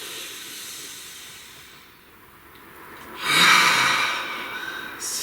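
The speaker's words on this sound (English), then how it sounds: "Please take a nice deep breath." A single slow, deep breath drawn in and let out near the microphone, a soft airy hiss that swells and fades with nothing else heard.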